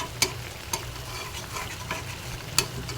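Small fish frying with red amaranth leaves and olives in a pan, a soft steady sizzle with a few sharp spatula scrapes and taps while the mixture is stirred.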